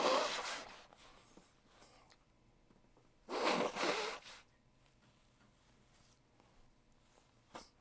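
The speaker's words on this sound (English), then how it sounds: "I'm about to sneeze again all over the..." A person sneezes into a shirt, producing two muffled bursts a few seconds apart, with quiet rustling between them.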